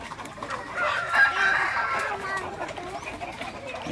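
A Shamo Aseel rooster in the Philippines crows once in a drawn-out call, with clucking from nearby fowl before and after, fairly close and moderately loud, with a voice talking faintly underneath.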